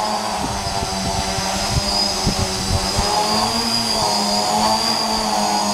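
A custom hexacopter drone's motors running at just over half throttle, a steady, loud propeller whine and buzz with faint wobbles in pitch, heard nearby without speech.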